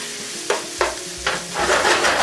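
Garlic frying for Cajun-style jambalaya with kielbasa, stirred in a hot pot: a steady close sizzle punctuated by three distinct scraping stirs, then a louder continuous hiss.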